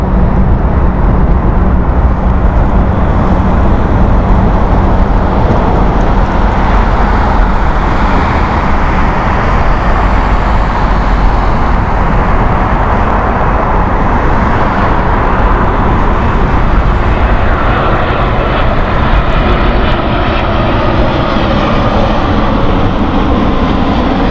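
WestJet airliner landing on runway 09 left at Heathrow Airport, heard as a loud, continuous broadband engine roar that holds steady throughout and shifts slightly in tone toward the end, with no talk.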